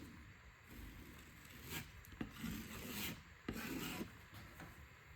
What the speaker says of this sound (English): now we're just gonna apply our first coat of joint compound really thinly